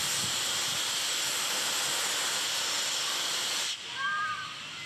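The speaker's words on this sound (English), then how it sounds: "Do love a good steam train." A steam train stands at Mallaig, releasing a loud, steady hiss of steam that cuts off abruptly near the end, leaving quieter ambience with a faint whistle-like tone.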